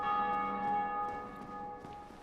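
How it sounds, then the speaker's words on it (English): A large bell tolls once in the Dark Souls: Remastered video game, a single deep clang with a long shimmering ring that slowly fades, with no voices over it. "Also, I wonder what having rung both bells has actually done."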